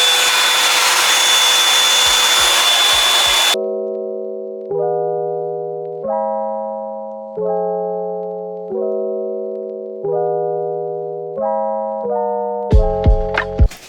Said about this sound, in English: since this is the first time we're drying our hair, I'm gonna go in with the high setting